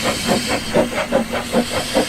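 Steam locomotive on a Snowdonia line passing close by, loud continuous hiss of steam with rhythmic chuffing pulses beating roughly every quarter second.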